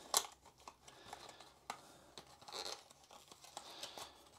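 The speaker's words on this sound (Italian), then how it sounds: "Per ogni unboxing che si rispetti, ci muniamo delle nostre forbici" Scissors cut open a package for a Xiaomi Mi Band 8 accessory, giving soft, close snips and crinkling, tearing packaging sounds in an irregular run with no talking.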